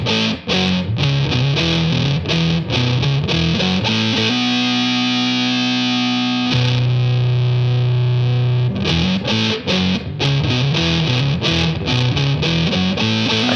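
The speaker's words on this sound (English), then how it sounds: "It starts off with a big muff fuzz and a -1 octave pitch effect from the HX Stomp" An electric guitar runs through a Big Muff fuzz with a one-octave-down pitch effect from an HX Stomp plus reverb from a Ventress, producing thick, loud, saturated riffing broken by a long sustained chord in the middle.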